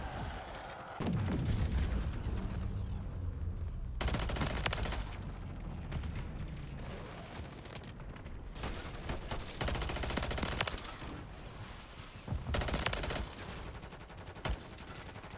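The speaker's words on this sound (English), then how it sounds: "And I call in the freaking airstrike" Airstrike explosions and gunfire in a first-person shooter played in ranked mode: a heavy boom, then sustained bursts of rapid gunfire and blasts that keep the sound loud and dense for the whole stretch, with no talk.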